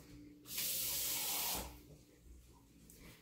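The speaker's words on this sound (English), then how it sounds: "You're just gonna keep adding water." A single burst of water runs or sprays for about a second while being added to oat dog treat dough, hissing, then cuts off into quiet.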